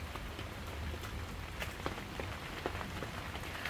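Steady rain falls outdoors, a dense, even patter with a few sharper drips landing close by, continuous and moderately quiet with no voices.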